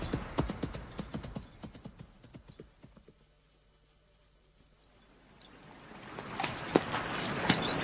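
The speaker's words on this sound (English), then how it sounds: "Your horses seem to be treading uneasily." Horses' hooves clip-clopping at a steady walk, close and distinct at first, then fading away before a rising rush of wind or rain noise takes over, with no voices.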